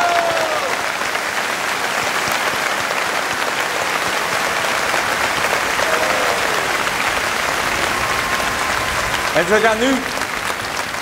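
An audience at Efteling gives loud, sustained applause for two Brazilian opera singers performing Hänsel und Gretel, dense clapping throughout with crowd noise and a voice speaking over it briefly.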